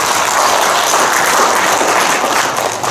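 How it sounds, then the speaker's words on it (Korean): An audience at a wrestling coaches' and referees' seminar breaks into loud, sustained applause, dense clapping that holds steady and starts to fade at the end. "박수 한번 쳐주세요."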